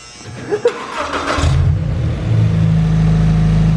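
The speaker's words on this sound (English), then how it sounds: "we're gonna start the car so that it flows through." A Scion FR-S / Subaru BRZ engine cranks with a couple of clicks, then catches and settles into a loud, steady idle rumble after an oil drain valve install.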